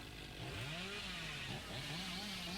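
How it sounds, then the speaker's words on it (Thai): A chainsaw in a video game revs in wavering, rising and falling whines over a constant hiss, faint and continuous for a few seconds with no talk. "เดี๋ยวเลื่อยหาคนก่อนนะครับ"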